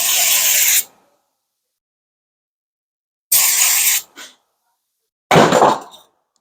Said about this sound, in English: we're gonna spray some brake cleaner and brush it